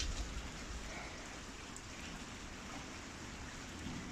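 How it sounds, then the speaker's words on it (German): Steady rainwater pouring down a rain gutter and splashing out at a farmyard during heavy rain, a dense continuous wash of water with no voices. "Das andere kommt hier, die Regenrinne runter."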